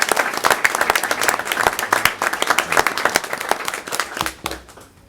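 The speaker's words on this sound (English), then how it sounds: "Let's give all of our students a round of applause." Audience at a school board meeting applauding students, a dense burst of clapping from many hands that holds steady and then thins out and fades near the end.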